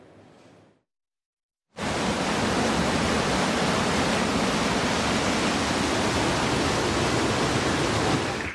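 Floodwater from an overflowing stream after heavy rain in Giresun, a loud steady roar of rushing water that bursts in after a brief quieter moment and stays constant and close.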